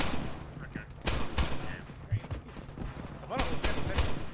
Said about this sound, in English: Mark, stop using your rifle.